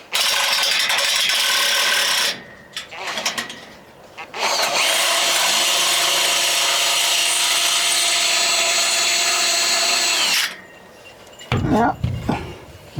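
A freshly sharpened drill bit bores into wood, grinding loudly and steadily for about six seconds after a couple of short bursts, then stopping, with some handling noise at the end.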